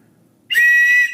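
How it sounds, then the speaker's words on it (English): Plastic survival-kit whistle from a survival tin blown once, a single loud shrill blast lasting about half a second, close and alone. "This is one of the better whistles I've seen in these survival kits."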